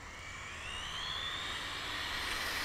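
High-pitched electric whine of an Arrma Limitless RC car driven at about one-third throttle, a steady faint whir that rises slightly in pitch and loudness as it runs outdoors, with no talking.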